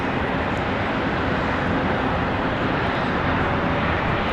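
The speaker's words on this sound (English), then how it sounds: "we've got another Delta coming in from LaGuardia, Republic Airways 5848" Republic Airways jet in Delta service arriving from LaGuardia at Charlotte Douglas airport, a loud, steady, broadband engine roar that holds evenly throughout with no pauses.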